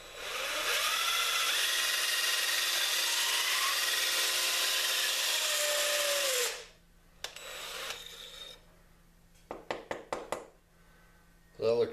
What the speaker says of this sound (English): you want to make sure you let the reamer do all the work and try not to put any twisting pressure on it